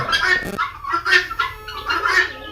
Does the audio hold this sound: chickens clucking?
yes